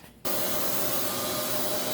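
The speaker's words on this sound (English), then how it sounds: "now sanding the red paint down with 180 grit" 180-grit sandpaper rubbing steadily against red paint on a cyclekart up close, a continuous dry, hissing scrape that begins abruptly after a brief quiet moment.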